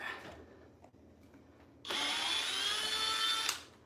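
A power drill whirs steadily for a couple of seconds with a rising pitch while unscrewing screws on an Inmotion P6 during a tire change, then cuts off, after quieter handling sounds.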